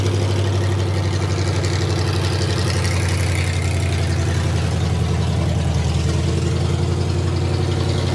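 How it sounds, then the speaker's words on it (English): A car engine fitted with long tube headers idles steadily and loudly up close, a continuous low rumbling drone with an even pulsing exhaust beat and no talk. "we're gonna let this thing idle."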